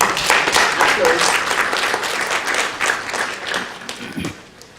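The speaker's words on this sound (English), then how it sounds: "Let's welcome them with a big applause." Audience applause at a United Nations event welcoming speakers, a steady dense wash of clapping throughout, with some voices mixed in underneath.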